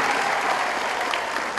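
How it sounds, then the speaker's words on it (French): A congregation at a church Bible study claps together in a loud, dense burst of applause that stays steady and fills the space for its short length. "Nous allons les applaudir."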